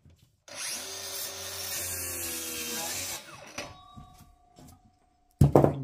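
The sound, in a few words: Parkside blade on circular saw crosscutting ash wood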